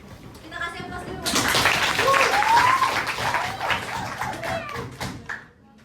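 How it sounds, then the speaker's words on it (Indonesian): Students applauding volunteers in a high school chemistry classroom, a burst of clapping that swells for several seconds and then fades, with some voices mixed in. "Kita kasih aplaus dulu."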